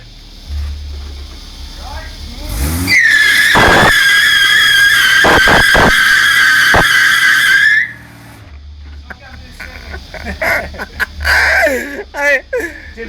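A Holden VL Commodore doing a burnout, tyres spinning under full throttle and giving a loud, sustained high squeal for about five seconds, with engine roar and bystanders talking before and after.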